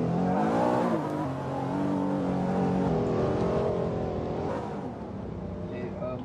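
A car in a video game revs and drives with a steady, loud engine drone, a crash sound hard to single out, while a player talks over the gameplay.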